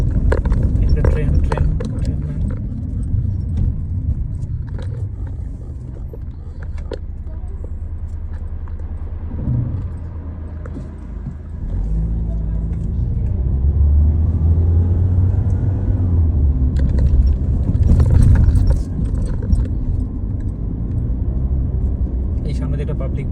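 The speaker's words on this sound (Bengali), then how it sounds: "সামনে একটা পাবলিক বাস যাচ্ছে, এরকম বাস চলাচল করে।" A long public bus rumbles past on a quiet city street in Germany around midnight, its engine swelling to a steady close roar under ongoing talk.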